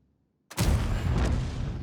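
A tank cannon fires in a tank video game: silence, then a single sudden heavy boom that rolls into a long, loud, rumbling decay, with no voice over it.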